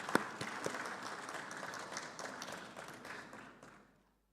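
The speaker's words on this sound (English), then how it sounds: "You deserve a resounding round of applause" A small conference audience applauds steadily for a few seconds, the clapping thinning out and fading to silence.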